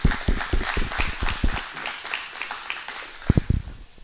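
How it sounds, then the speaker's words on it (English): Applause from a firehouse leadership training audience, scattered claps that fade toward the middle of the clip and then come back with a few louder, closer claps near the end. "round of applause."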